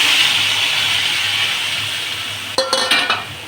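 Koi fish frying in a pan as a ground paste of salt, turmeric, chilli, cumin and ginger goes in, a steady loud sizzle with a few clinks and stirring scrapes near the end.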